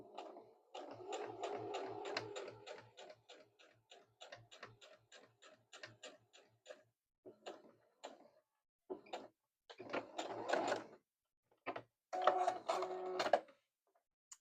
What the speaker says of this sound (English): And now I'm going to back stitch right down here.